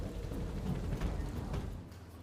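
Heavy rain pours steadily over Ahmedabad with a dense, continuous roar of drops on surfaces, nearby and loud, with deep rumbling underneath throughout.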